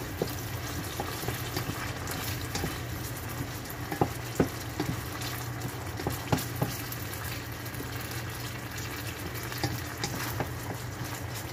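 Sardines being sautéed and mashed in a pan with zucchini, a steady close sizzle and frying hiss with scattered scraping stir clicks throughout, no voices.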